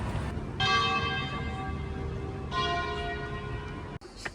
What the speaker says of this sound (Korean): 매우 불규칙적인 종소리였습니다.